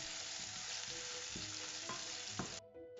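Onions sautéing in a pan with a pinch of salt for samosa filling: a dense, even hiss of frying with a few light spatula taps, which drops off abruptly near the end.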